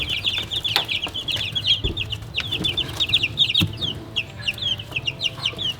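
Cornish cross and Americana chickens on a homestead cluck and chatter continuously, many birds overlapping in quick, high calls, with occasional thumps and rustling nearby.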